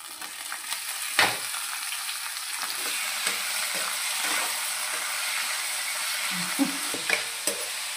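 Broad beans sizzle steadily in hot oil with the tempering spices, a village home-cooking scene, with occasional sharp clicks of a utensil stirring the pan; no one speaks.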